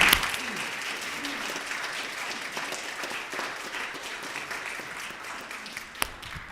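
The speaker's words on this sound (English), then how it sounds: "Could we please give him another round of applause?" Congregation at a Unity church on a Sunday morning giving sustained, fairly loud applause, a dense even patter of many hands throughout, with one sharp clap standing out near the end.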